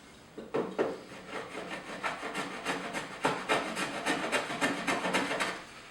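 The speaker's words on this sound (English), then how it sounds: "And I use this little baby standing plane for this, and it's perfect for this sort of job." A small hand plane smoothing wooden table trim, a run of rhythmic rasping strokes, about a dozen short scrapes close up and moderately quiet, with no talking.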